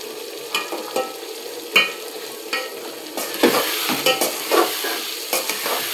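Spice masala stir-fried in a handi pot before mutton goes in, a soft sizzle punctuated by repeated scraping and knocking of a spoon against the pot, growing busier near the end, no talking.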